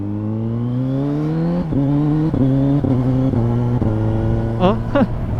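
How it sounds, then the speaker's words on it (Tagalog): A Kawasaki Z900 SE motorcycle accelerating with a quick shifter: the engine note climbs steadily, then drops in quick, clean steps at each gear change, about five rapid upshifts, loud and close with no talking. "Naka-steady lang yung bike na nagki-quick shift."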